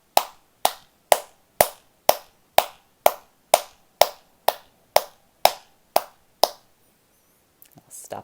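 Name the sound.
hands clapping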